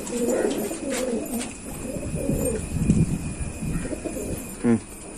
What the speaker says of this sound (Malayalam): ഇതാണ് ആ പ്രാവ്